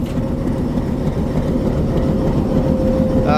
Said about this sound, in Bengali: ট্রেনের ইঞ্জিনটা আলাদা করা হচ্ছে